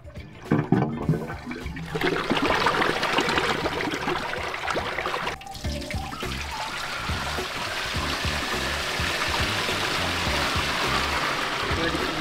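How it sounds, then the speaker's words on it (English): Water rushing through a DIY pond pipe system, a loud, steady gushing flow that starts with some splashing and settles into an even stream, close by with no talk. "Pretty even flow of water."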